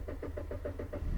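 An old jalopy's engine runs steadily up close, its low rumble pulsing in an even, rapid rhythm with no talk over it.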